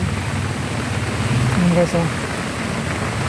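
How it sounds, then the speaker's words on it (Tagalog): Heavy rain pours steadily around a sheltered former badminton court where a tricycle driver waits it out, a dense, even roar with someone talking briefly over it. "sobrang lakas ng ulan kaya nagpahinga muna ako dito"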